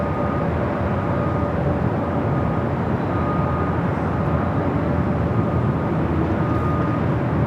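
An Aeromexico Boeing 787-9 Dreamliner takes off from runway 24 left at LAX, a steady, broad jet engine roar heard from a distance, constant in loudness throughout with no talk.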